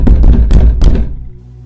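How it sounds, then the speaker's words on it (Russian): Several firm knocks on a door land in a quick irregular cluster, loud and close, then fade into silence. "Стук повторился."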